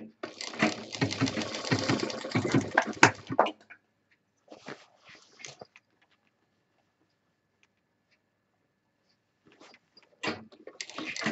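A sewing machine stitches the belt of a DIY office handbag in a steady rapid whir for about three and a half seconds, followed by short bursts and quiet gaps, then a final brief run near the end.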